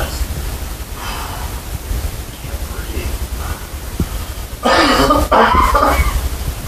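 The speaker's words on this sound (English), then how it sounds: "I've been coughing a lot" Two harsh, close coughing bursts near the end, loud and rough against a steady low background hum, with a brief gap between them.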